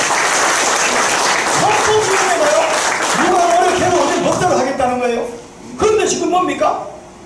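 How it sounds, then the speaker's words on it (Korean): A church assembly applauds its constitution committee with dense clapping that swells and then fades, while someone speaks over it in Korean. "박수 한번 쳐주세요"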